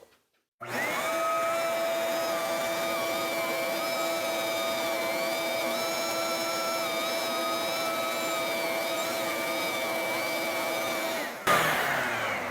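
A shop vacuum fitted with a Dustopper separator runs without its hose, a loud steady whine with sustained tonal hum from start-up to shutoff and a brief thump at the end.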